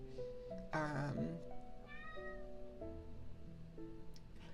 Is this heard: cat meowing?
yes